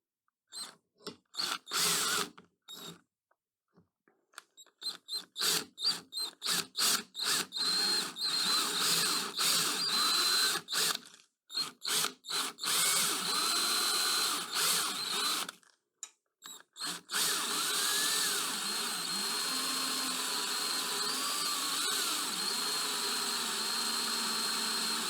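A drill bores a hole through a part clamped in a drilling jig held in a vise, whirring in many short on-off bursts at first, then running in long sustained stretches with a faint changing whine, with no talking.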